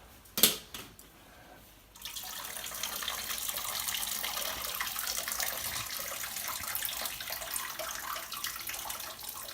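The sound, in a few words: straining boiled pasta, water pouring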